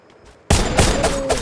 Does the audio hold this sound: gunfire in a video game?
yes